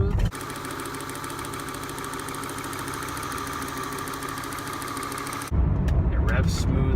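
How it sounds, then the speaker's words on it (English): A 1993 Volvo 850's engine idles with a steady, even hum and rhythmic rumble, close by, shifting to a louder, rougher tone near the end. "It idles smooth."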